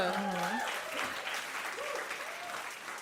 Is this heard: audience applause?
yes